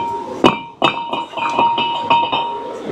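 A brake rotor comes off a Ford Mustang GT, with a loud metallic clank followed by several lighter clinks and knocks in an irregular rhythm, close by, with no talk.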